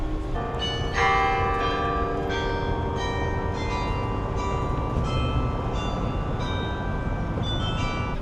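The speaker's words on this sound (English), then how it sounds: "the bell's ringing right now because it is 6 o'clock." The Clérigos Tower bell in Porto strikes six o'clock, several resonant ringing tones sounding at a steady pace and sustaining over a low background hum of the city street, without talk.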